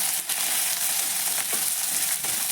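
Oil sizzling loudly in a pan as spice paste fries, a dense continuous close hiss with occasional faint stirring scrapes and no voices.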